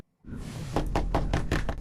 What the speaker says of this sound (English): We're trying to knock.